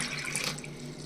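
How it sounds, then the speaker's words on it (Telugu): Water pours steadily from a glass into soaked chana dal, a short, soft, close stream of trickling water. "ఏ గ్లాస్తో అయితే శనగపప్పు తీసుకున్నామో అదే గ్లాస్ తోటి 2 గ్లాసులు నీళ్ళు పోసి నానబెట్టేయాలన్నమాట"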